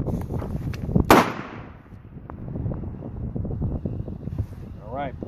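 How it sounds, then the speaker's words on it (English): One sharp, loud gunshot from a Smith & Wesson 686 Magnum revolver during point shooting practice, a single crack with a short decaying tail, set against wind noise and background rumble outdoors. "Just a single shot."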